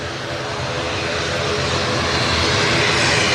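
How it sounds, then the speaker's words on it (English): A Loganair ATR turboprop airliner at Manchester Airport gives a loud, steady engine and propeller roar that builds slightly as it passes nearby. "We've got this Loganair ATR."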